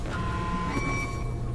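Alarm beeping in the video game Star Trek Voyager Elite Force: steady high electronic tones sustained over a low rumbling background, continuous and fairly loud throughout.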